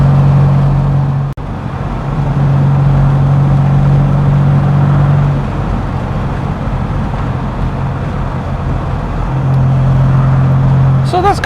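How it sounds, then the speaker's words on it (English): Steady, loud engine and exhaust drone from an MGB GT with its muffler removed, heard from inside while driving, with a low rumbling hum and rising engine notes near the end. "Most of the noise is coming from the fact that we took the muffler off because we wanted a particular exhaust sound"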